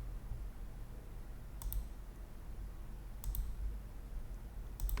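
Computer keyboard keys tapped while modeling in Blender, three short sharp clicks spaced about a second and a half apart against a quiet, humming room background.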